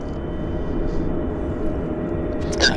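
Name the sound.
WestJet airliner taxiing out at Vancouver airport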